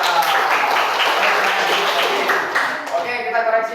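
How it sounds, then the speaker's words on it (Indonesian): Applause for a student group in a classroom cooking lesson, steady broadband clapping from a crowd of students that thins out near the end, with voices mixed in. "Oke, berikan tepuk tangan untuk kelompok 2."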